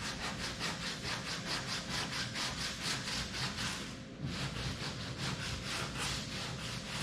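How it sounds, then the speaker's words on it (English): Sandpaper rubbed over body filler on a 1932 roadster hot rod, steady rhythmic back-and-forth strokes roughly three per second, close and fairly loud, with a brief pause near the end before sanding resumes. "All you do is sand and sculpt and sand and sculpt and sand and sculpt"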